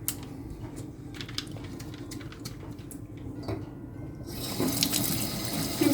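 Running tap water splashes steadily into a sink while Dawn dish soap is rinsed off, with scattered clicks and small knocks, the flow growing louder and brighter near the end.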